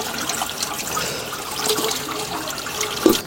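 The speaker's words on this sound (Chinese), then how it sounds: "这样一块块慢慢洗一下，洗干净一点啊" Tap water runs steadily over pieces of hairtail fish being rinsed clean, a soft continuous splashing and trickle close by with small slaps of handling.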